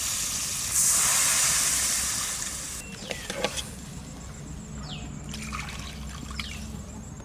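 Water poured into a pan of frying spice paste sets off a loud hissing burst of steam and sizzle, which settles into a softer bubbling simmer with occasional clinks nearby, no talking.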